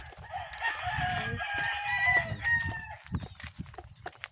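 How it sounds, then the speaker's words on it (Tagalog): A rooster crows loudly nearby while other chickens cluck in short bursts around it. "Uy, may mga manok, mga manok."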